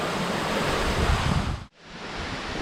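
Jok Kradin waterfall in Thong Pha Phum National Park, Kanchanaburi, pours in a steady, loud broadband roar of rushing water. It cuts out almost completely for an instant near the end, then returns at full strength.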